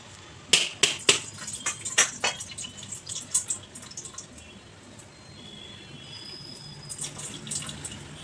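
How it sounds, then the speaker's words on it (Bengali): Water drips and splashes from a tap into a sink, starting with several sharp, distinct drops close by and settling into a faint, thin trickle. "এইটুকু এইটুকু জল পড়ছে শুরু"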